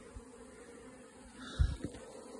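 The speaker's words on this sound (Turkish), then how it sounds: "Şimdi şu arı da biraz sinirlendi" A close, agitated honeybee buzzes steadily, with a few louder, sharper bursts of buzzing and bumps near the end.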